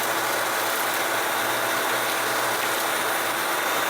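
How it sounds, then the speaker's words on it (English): A shop vacuum fitted with a cyclone dust separator sucks up a pile of floor sweepings, a loud steady broadband roar with airy hiss running without a break and no voices. "I've got a pile right here I need to vacuum up quick"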